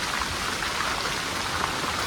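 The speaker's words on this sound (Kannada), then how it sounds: "ಮಳೆ ಬರ್ತಾ ಉಂಟು" Steady rain falls in a dense, even hiss of drops on surfaces, continuous and moderately loud with no voices.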